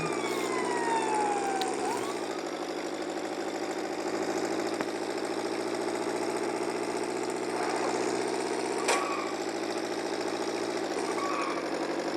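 A continuous wailing ambulance siren in a traffic racing video game, over a droning engine, pitch sweeping down in steps, loud and close throughout, with no voices.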